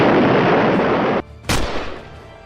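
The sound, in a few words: bomb-like explosion sound effect in an audio comic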